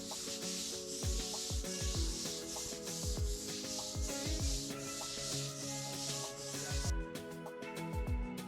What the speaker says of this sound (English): we scrub it with the broom to try to get most of the release off